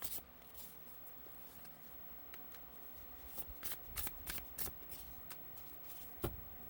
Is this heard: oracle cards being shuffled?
yes